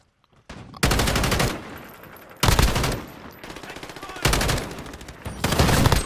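Loud, heavy bursts of automatic gunfire in Call of Duty Modern Warfare gunfight gameplay, several long volleys in quick succession, each broadband and close, with brief quieter gaps between.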